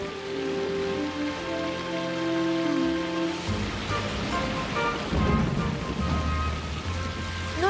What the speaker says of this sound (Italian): sta piovendo di nuovo.